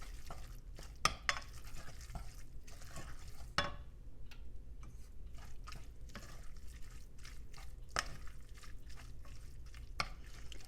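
Ground meat for chili stirred and broken up in a pot, with scattered scraping clacks of a utensil against the pot over a soft, steady background sizzle. No one talks.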